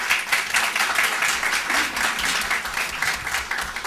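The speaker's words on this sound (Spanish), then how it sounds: "A todos ellos recibimos con un fuerte aplauso" Loud, dense applause from a full room at an international arbitration congress, many hands clapping continuously in a steady roar, close and sustained with no clear speech.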